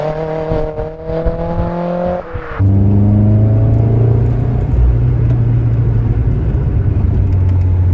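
A 30-year-old Vauxhall Nova accelerates hard up close, its engine note climbing through one gear, dropping at a shift, then settling into a loud, steady low drone with road rumble.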